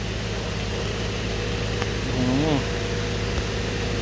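A truck with a Mitsubishi 6D16 engine and Eaton gearbox runs steadily at close range in heavy rain, a continuous low engine drone under broadband rain hiss, with a short voice-like rise and fall midway.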